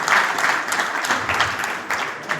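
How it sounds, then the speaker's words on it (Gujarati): Audience applause at a gathering welcoming a guest to the stage, a dense continuous clatter of many hands clapping, fairly close and loud. "વાવજીભાઈ આવતા રહ્યો, જોરદાર તાળીઓથી વધારીએ."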